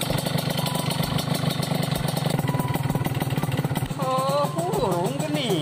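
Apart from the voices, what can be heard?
motorcycle engine running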